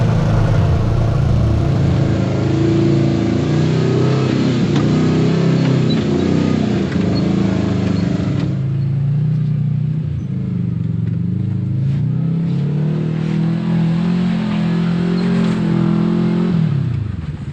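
A Kawasaki Teryx5 H2 side-by-side crawling in four-wheel drive low, its engine droning loud and close with wavering revs that rise and fall over rough ground before easing off at the end.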